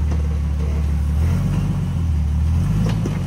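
An off-road vehicle engine rumbles low and steady as it drives on a trail, a close continuous drone with slight rises in revs and faint knocks.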